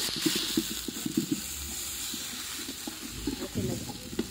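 Pepper paste for a country chicken curry sautés in a pan, a soft sizzle broken by scraping stirs and light clatter, close but quiet, with a voice speaking over it.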